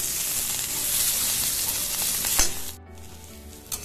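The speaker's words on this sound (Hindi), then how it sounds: "ये देखिए हमारा आलू फ्राई हो गया है" Potato pieces frying in hot oil for a parwal-aloo sabzi hiss with a steady, close sizzle that fades out near the end, broken by a few faint clinks.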